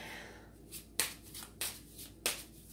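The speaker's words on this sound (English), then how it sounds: "As I shuffle the cards" Tarot cards shuffled by hand at close range, with three crisp riffle bursts at roughly even intervals over a quiet background.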